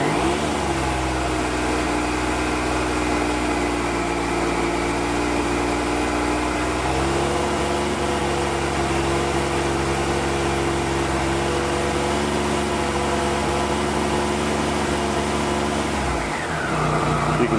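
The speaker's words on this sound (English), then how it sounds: "if I rev the engine slightly" A 2016 Triumph Trophy SE motorcycle engine runs steadily close by, its drone lifting slightly as the throttle is blipped, then cutting out near the end; no talking over it.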